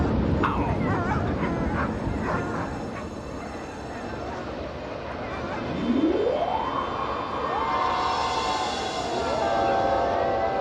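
Wolves howl in an animated series set on a snowy sacred mountain, yips and whimpers giving way to a rising howl that climbs and holds, then further overlapping howls, over a musical background.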